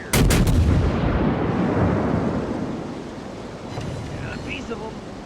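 Naval artillery fire in World of Warships: a loud, close cannon salvo opens with a few sharp blasts, then leaves a long rumbling roar that slowly fades, with faint game effects near the end.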